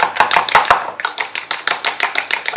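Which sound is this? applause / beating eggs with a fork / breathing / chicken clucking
beating eggs with a fork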